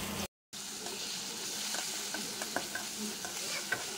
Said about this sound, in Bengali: এখন মুরগির মাংসটা ম্যারিনেট করে সামান্য একটু তেল দিয়ে ভেজে নিব।